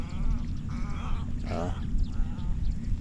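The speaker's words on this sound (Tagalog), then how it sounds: "Ang ingay ng mga ibon mga tolits oh." Several harsh, bleating bird calls overlap above a constant low rumble, with a louder squawk in the middle and fainter cries scattered around it, in the Laguna area.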